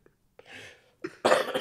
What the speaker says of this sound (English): Sorry for the coughing fit from all of us